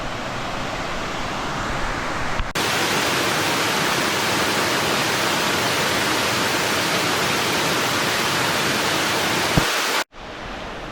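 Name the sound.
waterfall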